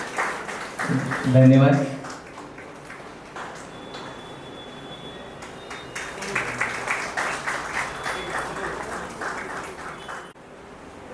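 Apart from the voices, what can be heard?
audience applause at college inauguration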